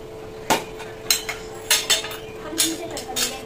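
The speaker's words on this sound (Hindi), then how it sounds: "इसी का डब्बा खोल रही" Several sharp clicks and clacks of a kitchen container being handled and opened while preparing a tempering with ghee, in short bursts with brief pauses between them.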